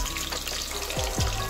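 Chopped onion dropped into hot ghee in a pan, giving a steady close broadband sizzle with a couple of brief low tonal sweeps over it.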